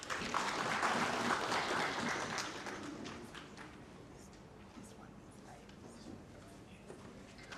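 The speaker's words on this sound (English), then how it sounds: "Let's welcome him with a round of applause." Audience applause at a national service delivery survey report launch swells for a speaker's welcome, then fades into sparse scattered claps and low room murmur.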